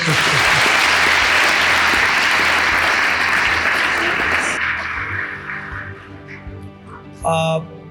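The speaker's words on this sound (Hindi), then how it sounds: "ताली बजा दीजिए एक बार" Loud, dense applause from an audience at an educational talk session fills the first four and a half seconds, then fades into scattered claps and murmurs, with a brief burst of sound near the end.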